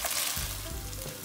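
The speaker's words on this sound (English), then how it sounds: "we just keep stirring, because if you don't stir it, it can begin to burn and stick to the pan" Tomato paste fries in a pan for jollof rice, a dense close sizzle with a short stirring scrape partway through, no talking.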